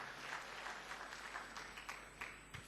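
A church congregation claps in a sustained, fairly faint burst of applause, a dense patter of many hands continuing evenly throughout with no voices over it.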